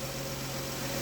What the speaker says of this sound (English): you can hear the engine's running fine right now